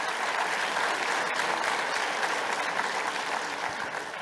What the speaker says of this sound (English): Please, a round of applause to Amir.